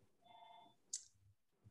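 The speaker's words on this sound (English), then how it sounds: "the phone's ringing in the other room." A telephone rings faintly in another room, giving a single short electronic trill, followed by a brief click and quiet room sounds, with no talking.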